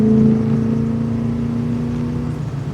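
1978 Ford Bronco engine pulling under throttle from inside the cab, a steady loud droning hum with a slight rise and fall in pitch, alone without talk.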